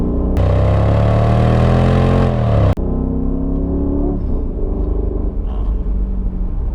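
A Mercedes W220 S55 AMG engine revving close up: a loud rising rev that falls back, cuts off abruptly, then settles into a steady throaty idle rumble.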